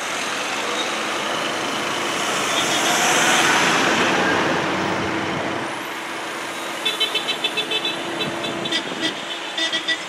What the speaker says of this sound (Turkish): Arabalar teğet geçiyor kendisini